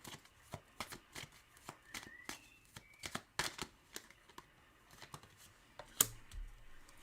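Repeated crisp riffling and snapping of tarot cards being shuffled, in quick irregular bursts close to the microphone, with a soft thump near the end.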